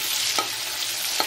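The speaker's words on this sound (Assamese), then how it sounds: "এতিয়া কলখিনি ভাজি ল'ম ইয়াত তেলতে" Raw plantain slices fry in hot oil with only salt and turmeric, giving a constant close sizzle with two brief stirring scrapes, no voices.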